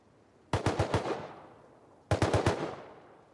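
AK rifle fire in the game Rust: two quick bursts of about four shots each, loud and close, separated by a brief pause, with no talk over them.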